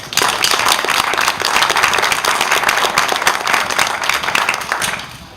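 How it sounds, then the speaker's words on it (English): Audience applause at a community streets meeting, a dense, steady burst of many hands clapping together that holds strong for about five seconds before tapering slightly at the end, with no talking over it. "a round of applause to the people who put on these tours"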